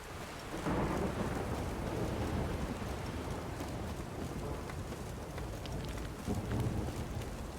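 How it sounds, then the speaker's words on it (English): Steady heavy rain pours throughout in the video game The Witcher 3: Wild Hunt, with low rumbling thunder rolling in the background; no voices. "It's raining."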